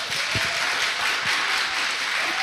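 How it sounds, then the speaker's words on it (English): Audience applause at a talent showcase performance, a steady broadband wash of clapping held at an even level throughout, with no voices over it. "Let's give her another round of applause, everybody."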